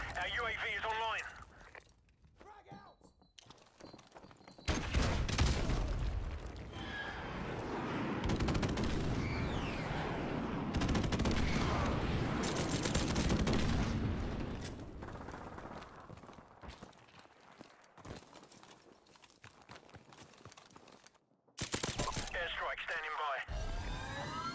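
Sustained bursts of automatic gunfire and explosions from a Call of Duty multiplayer match fill the middle of the clip, with game announcer voice lines over the action.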